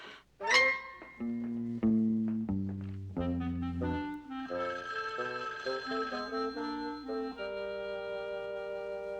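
A telephone bell rings in a 1960s sitcom household, loud and close, sounding under a swelling orchestral music cue with sustained tones rather than standing alone.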